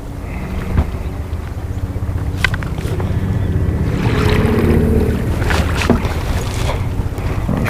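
Running in reverse, a boat's electric trolling motor gives a low steady hum under wind and water noise on a lake while drift fishing, with scattered splashes and knocks on the hull.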